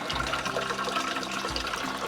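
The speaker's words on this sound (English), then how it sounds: "So put half of your water in." Water pours steadily through a filter basket into a garden sprayer tank, a continuous rushing, splashing flow heard close up with no talk.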